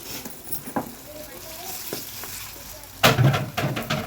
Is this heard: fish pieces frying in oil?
yes